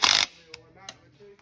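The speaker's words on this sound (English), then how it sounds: "You'll go back through with a ratchet and make sure they're snug." A ratchet snugs bolts on the lower unit of a 1997 60HP Yamaha outboard: a short loud burst of clicking followed by a few quieter single clicks, close by.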